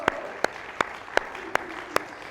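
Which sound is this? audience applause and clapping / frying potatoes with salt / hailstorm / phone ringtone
audience applause and clapping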